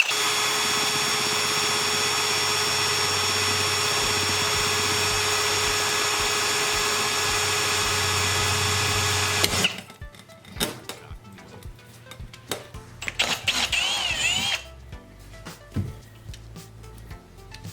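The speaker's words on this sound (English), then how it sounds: "So I'm just gonna do a starter bit," A drill bores a starter hole through aquarium tank glass at slow speed, making a steady whining drone for about nine seconds that then stops, followed by scattered clicks and handling noises.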